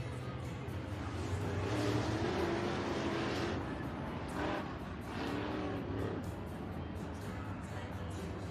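IMCA Modified race cars roar around the Eagle Raceway dirt oval, a continuous loud engine drone rising and falling as the pack swings through the turns, with crowd and track ambience underneath.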